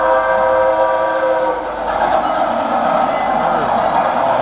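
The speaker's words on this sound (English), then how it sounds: "From Vancouver, he took a train to Chicago." Train sound effect in a laser show narration about a rail journey from Vancouver to Chicago: a steady, loud rolling rumble with sustained horn-like tones, continuous throughout without speech.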